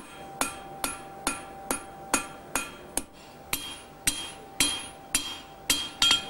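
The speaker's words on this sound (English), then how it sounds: "this noise of actually hitting the anvil between the beats was a way of keeping the devil away" Blacksmith's hammer striking hot iron on an anvil, about fifteen sharp ringing metallic blows in a steady rhythm, each decaying briefly before the next, close and clear with no talking.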